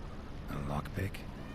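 A cat meows twice in The Witcher 3 game, short tonal calls close by, with a faint background ambience.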